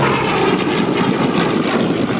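A Curtiss P-40 Kittyhawk fighter plane flying at Temora, New South Wales, its piston engine a loud, steady rumbling roar overhead with a rough propeller buzz and no voices.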